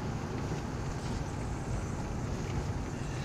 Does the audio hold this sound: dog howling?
no